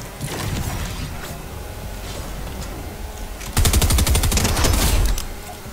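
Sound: gunfire from video game Fortnite Zone Wars

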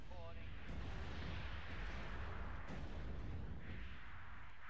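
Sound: missiles firing in Act of Aggression video game

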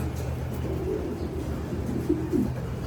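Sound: pigeons cooing in a loft

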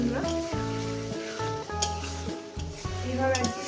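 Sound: katla fish masala being sautéed and stirred in pan

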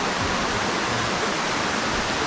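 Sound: waterfall roaring in the distance, Mt. Carmel, Grenada

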